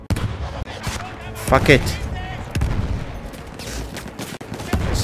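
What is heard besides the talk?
gunfire shooting at a tank, from the video game Battlefield 1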